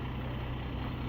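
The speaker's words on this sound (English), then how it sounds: "we got yet another concrete truck here" A concrete truck idles steadily on a construction site where a garage slab is being poured, giving a continuous low engine rumble with no breaks and no talk.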